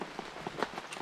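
Rain falling on the bush at Mapungubwe, a steady soft patter of drops on surfaces with a few louder splashes, continuous and fairly close.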